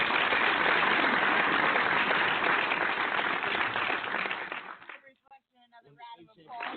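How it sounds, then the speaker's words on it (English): Crowd applause fills a barbershop talk radio show, loud and dense for several seconds before tapering off into a voice speaking. "Give a round of applause."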